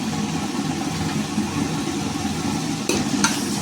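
Finely chopped large onion added to hot oil in a pan, giving a steady, close sizzle throughout, with a couple of brief utensil clatters near the end.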